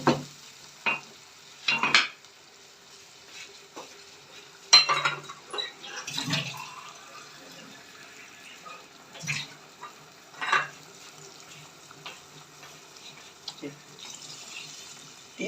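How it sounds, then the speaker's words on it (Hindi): Water splashes into a pan of fried potatoes and peas in an aloo matar, coming in short, separate pours and stirs with hissing and gurgling between quiet gaps. "तीन कप मैंने इसके अंदर पानी डाल दिया।"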